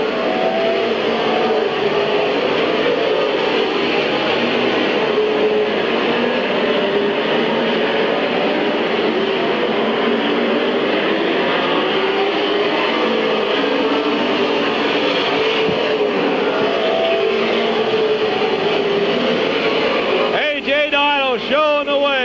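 Race cars circling Midvale Speedway in 1996, a steady dense engine roar running continuously and loud throughout, with a public-address style voice faintly mixed underneath.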